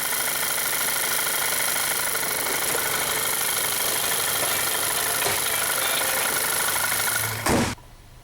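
A 2011 VW Eos engine idles after repairs for misfire and ignition coil codes, a steady close mechanical hum with faint knocking that runs unbroken for about seven seconds before a sudden thump and cutoff.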